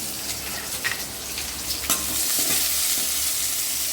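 Tomato chutney sizzling and being stirred in a hot pan, with a steady frying hiss and a few scraping stirs, close and fairly loud, growing denser toward the end.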